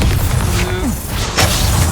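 Bombarda spell blast in Hogwarts Legacy: a short, heavy booming impact with a rumbling low end and a brief swooping tone, close and loud amid ongoing combat noise.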